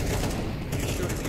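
Rapid gunfire from a Counter-Strike match, a dense continuous burst of shots filling the short moment with steady loudness and no pauses.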